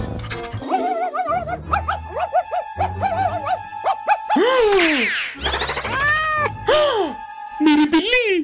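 A cat stuck on a roof meows repeatedly in an animated firefighter children's adventure, with loud, drawn-out, rising and falling cries mixed among other animal sounds and voices.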